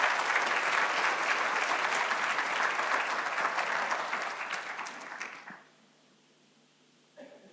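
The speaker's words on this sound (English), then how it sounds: "Please join me in a big round of applause for Mr. Loy and welcome him to the stage." An audience at a career day event gives a big round of applause, loud dense clapping that fills the room for about five seconds and then fades out abruptly into near silence, followed by a small knock.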